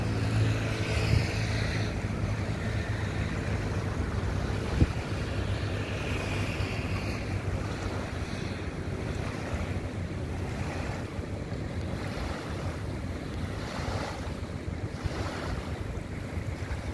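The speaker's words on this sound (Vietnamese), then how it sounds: "hạ thủy cái cano xuống biển." A motorboat launched into the sea at Halong Bay, heard as steady waves and surf with heavy wind buffeting the microphone, continuous and fairly loud with no voices.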